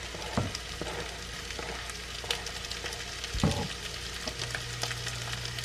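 Browned sausage frying in a pan for red beans and rice, with onions added, giving a steady close sizzle throughout and a few sharp clanks from stirring, no one talking.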